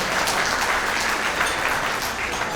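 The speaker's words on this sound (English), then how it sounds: "let's give them a round of applause for making sure that we were able to accomplish this together" A crowd applauding a team at a Philippine Park induction ceremony, dense steady clapping throughout.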